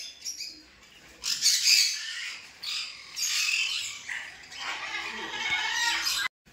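Parrots squawk from a cage at a bird farm, loud harsh calls in several bursts with chirps between and no talking.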